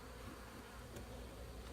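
Honeybees buzz softly around an open beehive during an inspection, a faint, steady hum with no other sounds.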